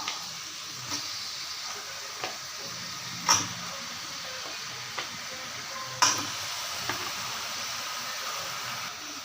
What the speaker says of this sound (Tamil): இதில் இந்த சிக்கனை ஒரு பெரட்டு பரட்டி விட்டுடலாம்